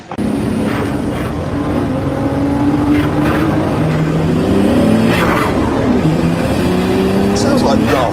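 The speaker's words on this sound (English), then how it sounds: "The most amazing thing about that is a V10 diesel engine" A V10 diesel car engine revs loudly and steadily, rising and falling in pitch over a constant roar, with a voice heard faintly underneath.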